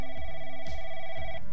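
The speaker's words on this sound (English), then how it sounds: "Oh, we gotta answer this phone, huh?" An old-style telephone bell rings inside the horror shooter Beyond Sunset, a steady metallic trill in two loud bursts with a short gap, over faint low game ambience.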